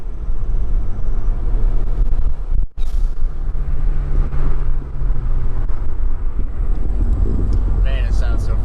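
Ford Fiesta ST accelerating hard in second gear with a Turbosmart blow-off valve, a loud roaring engine broken by a sharp gap at the shift, then rising again with hissing whooshes near the end.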